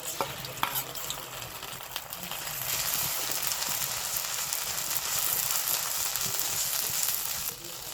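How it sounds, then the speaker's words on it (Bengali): Mustard seeds sizzling in hot oil, a steady bright frying hiss that swells partway through and stays loud and continuous, with faint stirring clicks and no talk. "এখন আমি তেলের ভিতর দিয়ে দেব।"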